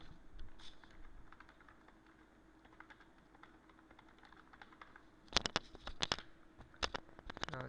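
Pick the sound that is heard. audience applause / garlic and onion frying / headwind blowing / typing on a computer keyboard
typing on a computer keyboard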